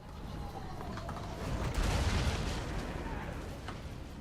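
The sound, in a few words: artillery shots in Total War: Warhammer video game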